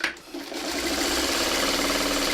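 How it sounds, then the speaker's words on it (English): A home sewing machine runs steadily, stay stitching around the edge of a quilt block with a fast, even mechanical chatter. The stitching starts just after a brief pause and holds at a close, constant level. "I'm just doing my stay stitching within the seam allowance so it doesn't show"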